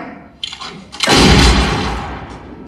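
During a pistol duel in a John Wick film, a small crack comes first, then a loud, booming gunshot whose echo rolls on and fades slowly.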